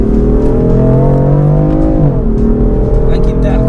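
BMW M4 engine at full throttle inside the car, a loud sustained roar with rising and dipping pitch as electronic traction control cuts power, while a person talks over it.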